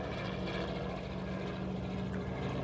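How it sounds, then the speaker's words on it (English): A steady, droning helicopter hum with a low rhythmic rotor thrum, fairly loud and constant throughout, with no other sounds. "There's a helicopter."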